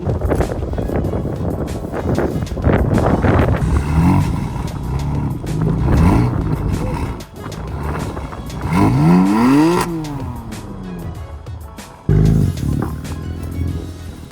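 A car stuck in mud revs its engine repeatedly in rising, roaring surges with wavering pitch, loud and close, punctuated by a sudden thump, while people talk throughout.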